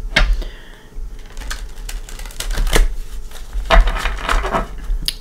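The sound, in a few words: shuffling tarot cards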